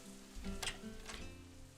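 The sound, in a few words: rain heard in the visual novel game Katawa Shoujo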